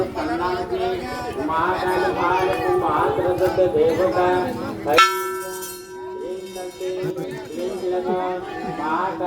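A temple bell rings out sharply midway through at Maa Ghanteswari Temple, Chipilima, Sambalpur, its tone hanging over busy crowd chatter and voices on both sides.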